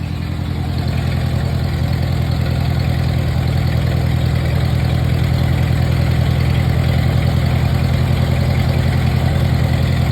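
A 1948 Ford 8N tractor engine, left sitting more than ten years, idles steadily and loudly up close, a constant low rumbling chug with an even rhythm throughout.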